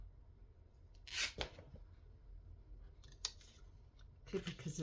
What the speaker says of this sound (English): Let me cut it down a little bit.